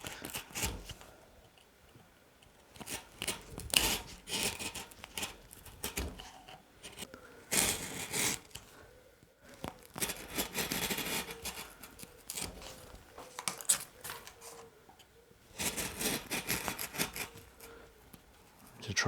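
A carving tool cuts across the wood grain to lower the background of a relief carving, giving repeated scraping, rasping strokes in bursts with short pauses, close and fairly quiet.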